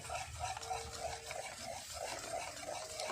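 Broken-up set curd for misti doi is stirred by hand while warm milk is added little by little, a soft, rhythmic wet squishing and scraping repeating about every half second, close and quiet.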